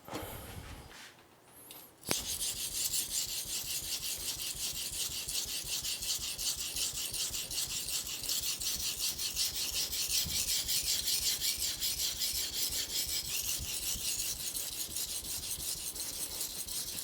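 Steel knife core steel being sharpened on a Binsui Nakatoishi Japanese natural whetstone: a steady, close, continuous rasping scrape with rhythmic back-and-forth strokes, starting after a brief quiet moment and running alone without talk.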